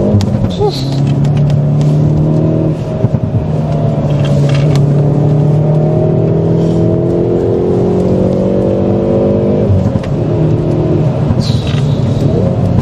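Hyundai i30 Fastback N (2020) turbo engine accelerating, heard from inside the car: a steady loud engine drone rising in pitch through the gears, with a brief dip at a shift.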